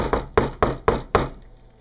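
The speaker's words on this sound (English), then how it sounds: "Knock upon the phone." Five quick, sharp knocks on a hard surface land in an even rhythm close by, followed by brief quiet.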